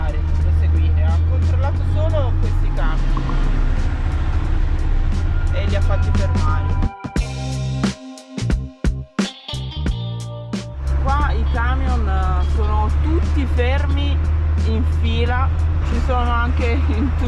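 Road traffic in Gambia, cars and trucks passing in both directions, forms a loud continuous rumble close by, briefly dropping away midway before returning, with people talking over it throughout.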